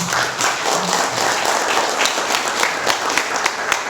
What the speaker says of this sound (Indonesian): Aplaus untuk kita semua.